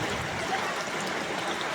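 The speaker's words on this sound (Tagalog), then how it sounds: "Napakalakas ng tubig dun, eh." Strong floodwater rushing during a typhoon, a continuous loud hissing, gurgling flow with no voices.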